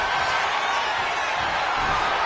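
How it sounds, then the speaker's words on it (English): A wrestling arena crowd in WWE 2K25 roars and cheers in a dense, steady wash of noise with a few whoops, loud and unbroken throughout. "And Bayley's firing up the crowd here."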